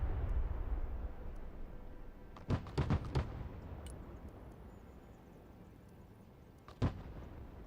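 Artillery fires a barrage in a video game: a quick cluster of sharp, booming shots lands close together, followed by a lone blast a few seconds later over a low rumbling backdrop.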